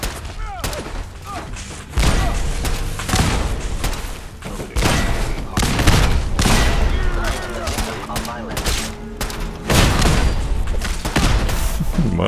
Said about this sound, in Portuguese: Arma de fusão.